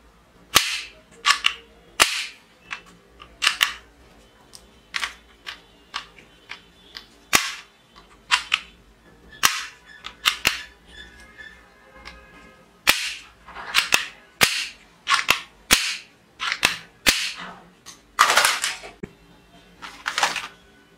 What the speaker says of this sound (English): Wow, shooting toy pistol.